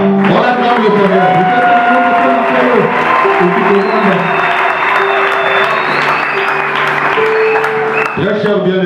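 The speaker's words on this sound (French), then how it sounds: "on acclame le Seigneur" A church congregation at a wedding blessing applauds and cheers loudly and continuously, a dense wall of clapping with shouts and voices mixed throughout.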